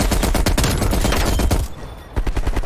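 An M60 machine gun in Call of Duty Cold War fires loud, rapid sustained bursts, a brief pause breaking the stream before the hammering resumes at close range.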